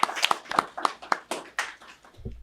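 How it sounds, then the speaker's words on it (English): A few people clap briefly at a podcast taping, sparse, uneven claps spread across about two seconds, close and fairly loud, trailing off at the end. "Give him a hand. Round of applause."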